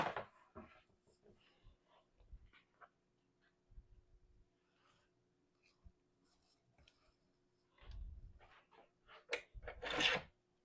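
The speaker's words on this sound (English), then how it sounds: "we're going to keep peeling and coring" Red-fleshed apples are peeled and cored for applesauce. Soft, intermittent scraping and rasping cuts come close by in short bursts, with a few louder strokes near the end and quiet gaps between them.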